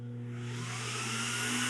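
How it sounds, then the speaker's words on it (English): Steam cleaner vacuuming water off hotel tile grout, a loud steady motor whine with a strong hum and rising airy hiss, close and continuous. "I'll eventually let off the trigger and just vacuum only"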